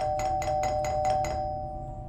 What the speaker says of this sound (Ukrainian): Вночі хтось подзвонив у дзвоник.